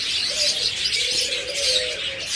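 Budgerigars and lovebirds in a bird-selling setting chirp in bright high twittering bursts, with a soft lower cooing tone underneath, steady and close with no speech.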